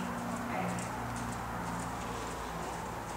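Horse cantering in a riding arena, faint muffled hoofbeats under a steady wash of wind or microphone noise.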